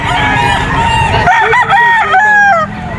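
A golden boy sweater gamefowl rooster at a busy pet market crows loudly and close, a long drawn-out call with wavering pitch over a noisy crowd background.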